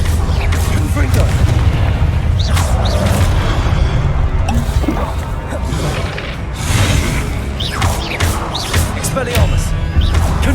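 Repeated Confringo fire-spell blasts from Hogwarts Legacy gameplay, loud booming bursts landing again and again over a dense, continuous battle din with no talking.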